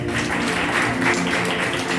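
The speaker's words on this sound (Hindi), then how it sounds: "सब लोग अपने लिए जोरदार ताली बजाइए" Congregation in a Palm Sunday church service clapping loudly and steadily, a continuous dense patter of many hands throughout, with a low hum beneath.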